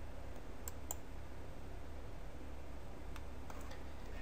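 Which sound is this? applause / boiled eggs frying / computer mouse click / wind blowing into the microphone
computer mouse click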